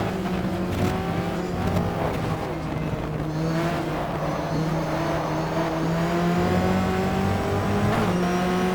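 Race cars in the GTR 2 racing game, a Corvette among them, roar steadily at high revs, with engine tones rising and falling through gear changes and several cars passing close.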